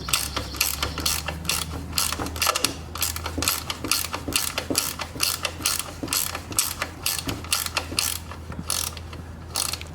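A ratchet wrench works a 10mm solenoid bolt on a 2005 Polaris Trail Blazer quad, giving steady, rapid metallic clicking strokes up close, with no talking.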